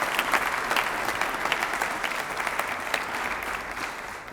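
Audience applause welcoming a speaker at a Nebraska Food for Health Center announcement, steady sustained clapping from a sizable crowd, close and even throughout before gradually easing.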